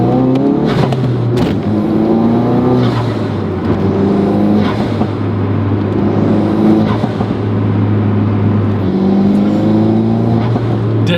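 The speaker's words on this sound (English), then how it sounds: "The turbo build-up." A tuned Ford Focus RS with a stage 4 clutch, lowered 25 mm, revs through its gears with a steady engine drone and rising turbo build-up, heard loud and close from inside the cabin for the whole stretch.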